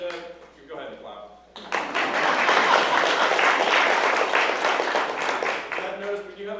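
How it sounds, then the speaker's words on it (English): A brief spoken bit gives way to an audience at a district court judge candidates forum bursting into sustained clapping, loud and close, with a voice resuming as it tapers off. "I just wanted to go ahead and clap"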